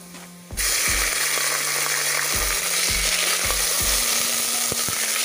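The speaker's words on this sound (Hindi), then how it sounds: "तो गोश्त मैंने भून लिया है" Chicken pieces hit hot oil in a pan with a sudden loud sizzle that carries on steadily, while a spoon knocks and scrapes the pan every second or so, close and with no voices.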